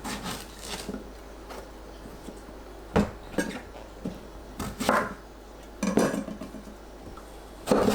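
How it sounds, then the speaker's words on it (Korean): A knife trims the stems off eggplants on a cutting board: a series of sharp, close chops and knocks spaced irregularly, some in quick pairs, with no voices. "가지 꼭지를 잘라냅니다."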